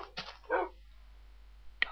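A dog barks in Minecraft, two short, fairly near barks followed by another sharp bark after a pause of quiet.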